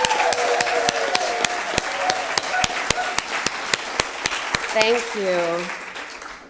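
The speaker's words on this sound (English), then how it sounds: "stand up and let us applaud you again" A church congregation on a Sunday gives sustained, dense applause with a few sharp individual claps standing out. A voice briefly speaks near the end as the clapping fades.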